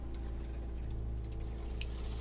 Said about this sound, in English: it made a sound like water was going in